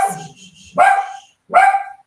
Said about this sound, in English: a little bit of barking